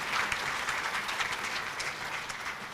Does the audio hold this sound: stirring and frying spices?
no